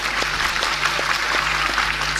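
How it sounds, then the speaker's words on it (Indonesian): Audience at an outdoor religious lecture in Bantul's town square clapping loudly, a dense continuous patter of many hands with scattered sharper claps throughout. "Wis tepuk tanganno sing banter gak apa-apa"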